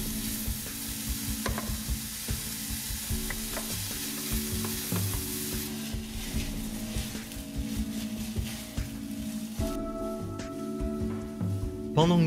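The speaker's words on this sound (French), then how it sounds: "Je remue fréquemment pour éviter que ça n'accroche sur les bords de la casserole." Onions cooking gently in a saucepan over low heat, a continuous soft sizzle broken by frequent scraping strokes of a spoon stirring along the pan, with faint talk in the background.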